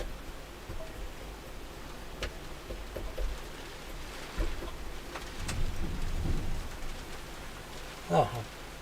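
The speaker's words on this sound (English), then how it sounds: "I do believe it might even be thundering" Distant thunder rolls as a low, faint rumble that swells and fades over several seconds, with light rain patter and small ticks in the background.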